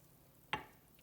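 A single brief, soft scrape of stirring yeast into lukewarm water in a bowl, a quick close swish lasting a fraction of a second in an otherwise quiet kitchen.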